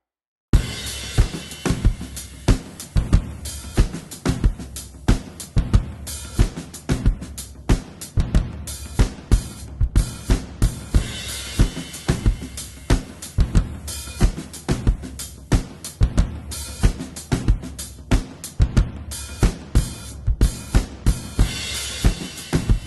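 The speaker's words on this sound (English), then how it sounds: "all three drum parts layered over one another." A full drum kit plays the layered chorus beat of a song, a steady, driving beat with punchy kick, snare hits and cymbals layered together, loud and continuous without vocals.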